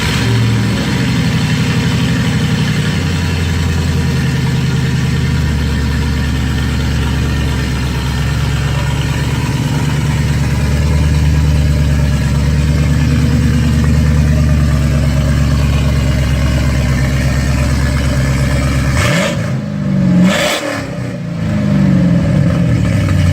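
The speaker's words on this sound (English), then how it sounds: "We get to see the V8 M3 start up." V8-swapped BMW M3 starting up, then settling into a loud, close, steady idle with a rumbling engine note before a brief sharp rev near the end.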